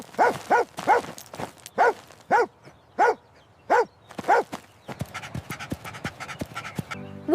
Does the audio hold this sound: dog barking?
yes